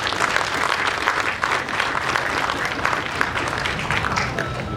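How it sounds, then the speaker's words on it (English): A live audience applauds at a peace-promotion event in Uganda, with steady, dense clapping close by that holds for the whole span with no pauses. "I think we should clap for the International Republican Institute and USAID"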